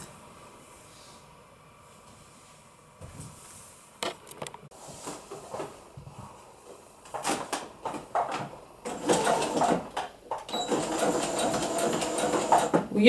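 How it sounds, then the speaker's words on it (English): A sewing machine stitches a machine-knitted hanky-hem top, starting faintly after quiet handling noises and building into close, loud bursts of rapid mechanical whirring and rattling. "So we'll go to the sewing machine now"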